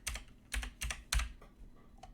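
Computer keyboard typing in a few quick clusters of key clicks, close and crisp with short pauses between bursts, no talk.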